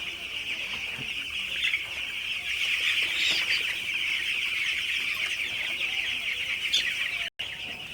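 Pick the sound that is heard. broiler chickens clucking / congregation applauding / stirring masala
broiler chickens clucking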